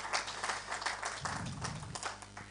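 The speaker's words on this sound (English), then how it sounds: "Please welcome her as she comes on the stage with a thunderous clap." Audience clapping welcomes a justice onto the stage at the launch of a law report on 1994 genocide cases, a soft, steady patter of many hands heard at a distance.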